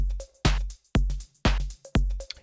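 Euro Shuffle Tech drum multi playing in RMX, with deep low kicks landing roughly every half second in a steady shuffling groove, bright hats and percussion hits between them, and a short tonal blip recurring in the pattern.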